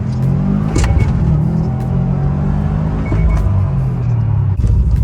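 A Subaru STI Type RA tuned with a Cobb AP accelerates hard in first gear, its loud engine roar and rumble rising steadily close up inside the car, with no talking.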